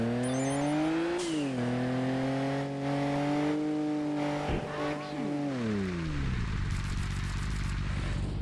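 A car drifts along a mountain road in the racing game Kaido Racer, its engine holding a loud steady drone that rises and falls with the revs, with tire squeal during the slide and a shift down in pitch near the end.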